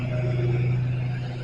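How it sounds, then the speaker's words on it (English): A lawn mower drones steadily somewhere nearby on a town square in Chardon, Ohio, a continuous low engine hum with no talk over it. "somebody mowing lawn, so I apologize for the noise in the background."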